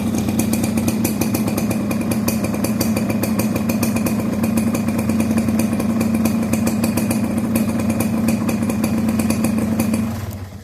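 A Honda Nova-RS motorcycle engine with AC CDI ignition runs steadily at idle, a close, loud, even mechanical drone with light clatter that continues without a break for about ten seconds and then cuts off abruptly.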